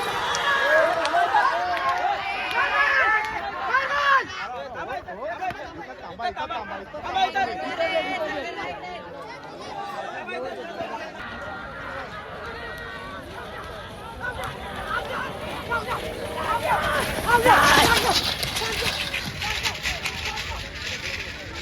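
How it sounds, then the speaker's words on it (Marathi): A dense crowd at a bullock cart race fills the scene with steady babble and shouting, loud and close, with a brief surge of louder noise near the end. "खालती पण जाम गर्दी आहे"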